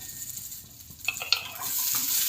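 Gangavelli kura (purslane greens) and ingredients frying and being stirred in a pan, a steady sizzle with scraping stirs that grow louder and more active toward the end, close by and without talk.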